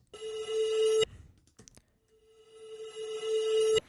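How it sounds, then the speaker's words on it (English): Two tonal reverse transition effects: a steady synthetic tone swells louder and then cuts off sharply. A short gap of faint clicks separates the first swell from a second, slower rise that ends the same way. "these tonal reverses, and they come in at the end too."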